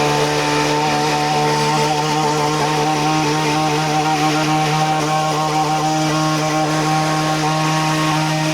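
Mech Maxx SG-24 stump grinder mounted on a tractor chewing into a stump, a steady loud droning whine with strong sustained engine harmonics that hold evenly from start to finish, no voices.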